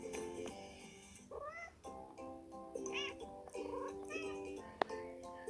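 Cartoon cat meows from a watermelon-style merge video game rise and fall repeatedly over light game music, with a few short chirps and a sharp click near the end, all fairly quiet.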